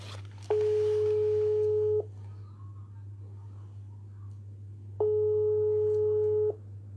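Two identical steady electronic telephone call tones, each about a second and a half long and a few seconds apart, sound over a low constant hum.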